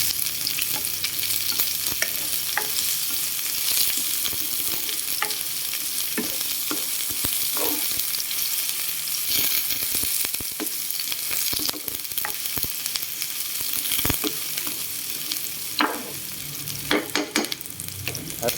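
Garlic, chili and onion fry and sizzle in a hot pan for crispy tofu sisig, a steady bright hiss with frequent scraping stirs and clinks of the utensil throughout.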